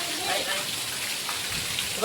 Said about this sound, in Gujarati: વરસાદ પડે છે ધોધમાર